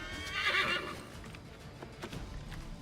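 A horse in Assassin's Creed III Remastered gives a loud, shaky whinny up close, followed by a few soft hoof clops and faint game ambience.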